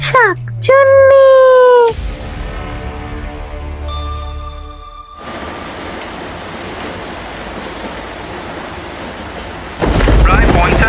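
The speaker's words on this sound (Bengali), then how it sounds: "প্রায় 50 কিলোমিটার বেগে শিমুলগঞ্জের দিকে ধেয়ে আসছে কালবৈশাখী। ভারী বৃষ্টিপাতের আশঙ্কা।" Cartoon Kalbaishakhi thunderstorm with heavy rain in a Bengali horror cartoon: a loud whooshing rumble of thunder and steady dense rain hiss fill the scene after tonal synth swells at the start, with a heavier burst near the end, no talk.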